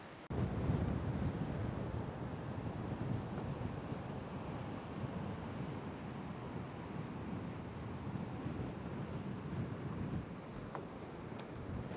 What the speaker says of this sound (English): We're gonna catch some clips of the ocean.